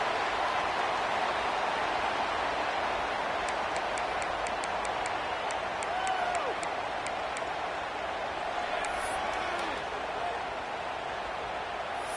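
Steady roar of a stadium crowd at a football game against Tennessee, cheering and applauding without pause at close, loud level, with faint sharp claps or whistles poking through midway.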